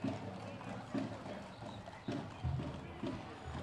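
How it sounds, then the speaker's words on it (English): Horses' hooves clip-clop at a steady walking rhythm during the Colmo del Rodeo parade in Salinas, California, heard at moderate distance beneath crowd noise and a voice talking over them. "Look at those horses."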